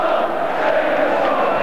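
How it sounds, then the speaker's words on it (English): Football crowd at Ayresome Park chanting Brian Robson's name after Middlesbrough beat Luton in 1995, a steady, loud massed chorus of voices that carries evenly throughout. "Brian Robson is the"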